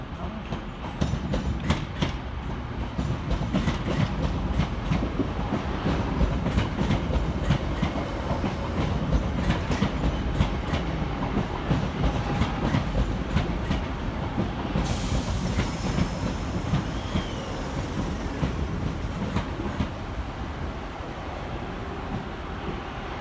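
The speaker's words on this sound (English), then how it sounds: "Arriving into the station 7 minutes late is 323-233 and 323-220, working the 1243 Northern service from Blackpool North" Two coupled Northern Class 323 electric trains pull into Manchester Oxford Road station, a continuous loud rumble with rhythmic wheel clatter and rail noise throughout, with a hissing brake or air release joining partway through.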